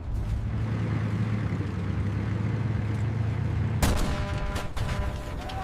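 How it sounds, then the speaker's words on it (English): A tank engine rumbles low and steady during a World War II Sherman Firefly battle, then a sudden loud shell blast bursts in near the end with crackling, scattered debris and gunfire-like cracks. "The explosion threw mud and shrapnel against the hull"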